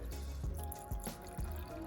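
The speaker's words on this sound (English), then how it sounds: "I am going to take 2 cups of chicken broth and I am going to pour that into the crock pot." Chicken broth poured into a crock pot over onions: a steady, soft liquid trickle with a few gentle splashes, close and fairly quiet.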